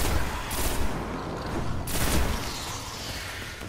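Enemy gunfire in the video game Destiny, Shrine of Oryx mission: a steady volley of crackling, noisy shots and bursts at moderate loudness, with a couple of stronger blasts around the middle and no talking.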